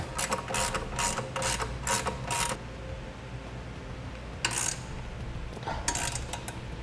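Ratchet clicking in quick bursts while bolts are tightened on custom-fit Carr truck side steps, a run of rapid clicks, a pause, then more short bursts later, close up with no talk.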